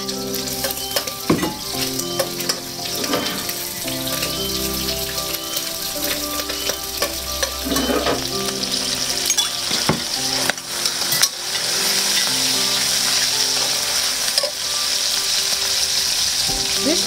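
Dried Chinese sausages and Thai fish cake fry in a hot pan with a steady, close sizzle and occasional stirring clatter, continuous and fairly loud throughout with no talking.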